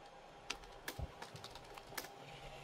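Keys tapped on a computer keyboard during a server setup, a handful of soft irregular clicks close by and very quiet, with no talking.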